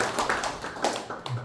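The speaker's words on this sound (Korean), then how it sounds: "우리 자유파 유튜버들에게 격려의 박수 한번 더 부탁드리겠습니다" A political lecture crowd gives a short burst of uneven clapping, with a few louder hand strikes standing out in the brief wash of sound.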